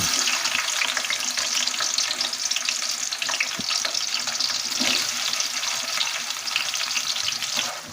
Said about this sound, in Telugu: ఆయిల్ బాగా వేడెక్కాక అందులో మటన్ కర్రీకి కట్ చేసుకున్న ఆనియన్స్ వేసుకోవాలండి